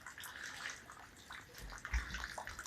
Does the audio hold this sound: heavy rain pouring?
yes